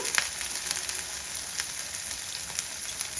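Peppercorns, ginger pieces, and green and dried red chillies fry in ghee, making a steady, close crackling sizzle with small popping spatters throughout and no talking.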